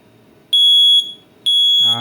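A wizMart smoke alarm with a fault that makes it beep every 30 seconds gives two loud, shrill electronic beeps about a second apart, and a voice starts talking just as the second beep ends.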